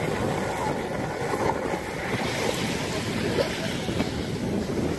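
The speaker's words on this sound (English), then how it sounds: "The beautiful waves they create." Ocean surf on a deserted beach on a hidden island in Texas, small barreling waves washing in as a steady, loud broadband roar with wind buffeting the microphone throughout.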